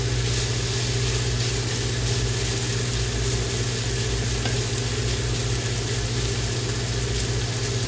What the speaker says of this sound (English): I like for my onions to char up a little bit, and I don't mind my meat charring a little bit